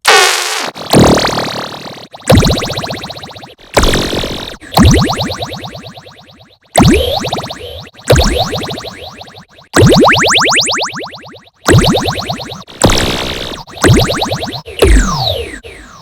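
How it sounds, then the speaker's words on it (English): A run of anime-style cartoon sound effects synthesized with the Wave Shifter plugin: bursts of rising and falling chirpy, wobbly tones, each a second or two long, separated by brief pauses. "you can also get easily these very typical anime sound effects"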